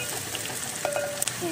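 Garlic frying in a pan sizzles quietly with a soft, continuous hiss and a few small clinks, faint and brief.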